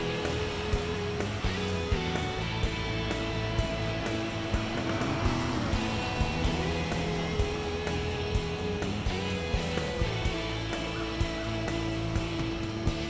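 A Blade 350 QX quadcopter drone flies overhead outdoors near a street, its rotors giving a steady, loud droning whine with shifting pitch that holds for the whole stretch, broken by small clicks and bumps.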